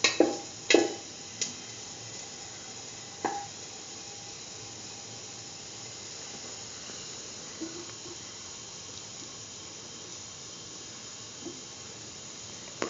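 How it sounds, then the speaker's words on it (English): Food sautés in a pan while curried beetroot chickpea dip is prepared: a soft, steady sizzle with a few sharp utensil clicks and scrapes near the start and scattered later, with no talking. "Sauteing."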